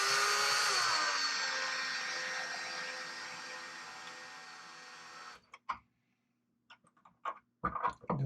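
Power driver tightening plastic-on-plastic screws on a Traxxas X-Maxx roof skid: a whirring motor slows down gradually over several seconds and then stops, followed by a few short clicks and handling noises.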